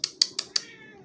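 A pet cat named Missy gives four quick, close meows in an even rhythm, then falls silent against a faint background.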